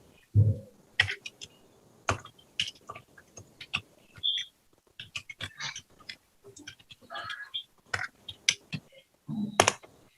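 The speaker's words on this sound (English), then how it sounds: "I'm typing the whole thing out for him." Someone types on a computer keyboard in a jail courtroom, with irregular bursts of close, crisp key clicks separated by short pauses and a few faint sounds from the room.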